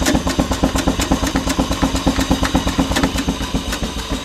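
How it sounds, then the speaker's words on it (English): A traction engine idles out of gear, ticking over in a steady, even rhythm of regular chuffs and mechanical knocks, close and fairly loud with no talking. "Have the engine ticking over nicely."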